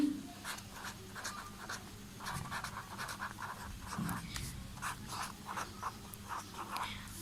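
Pen or marker writing out a maths problem statement during a primary-grade arithmetic lesson, a soft scratchy series of short strokes and taps in a quiet room, steady and faint.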